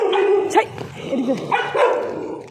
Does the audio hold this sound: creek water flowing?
no